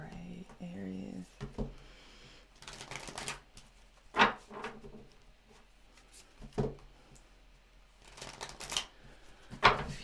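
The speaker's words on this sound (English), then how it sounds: "A few more shuffles." Tarot cards are shuffled close up in several crisp riffling bursts, separated by quieter pauses, with a voice faintly in the background.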